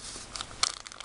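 A brief, close crinkle of a large plastic packet from a Kracie Popin' Cookin' bento DIY candy kit being handled, with a few sharp crackles near the end.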